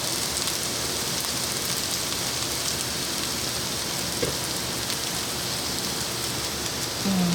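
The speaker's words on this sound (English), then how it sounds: "I put a little bit of vegetable oil in there so we can hear it sizzling" Steady, hissing crackle of vegetable oil sizzling in a pan, constant and fairly loud throughout with no voices.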